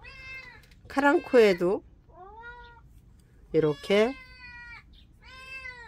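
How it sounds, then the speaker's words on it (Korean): A cat meows repeatedly at close range, two sharp cries and several longer drawn-out calls, while someone talks about her flowering plants during a garden visit. "고양이가 많이 울죠?"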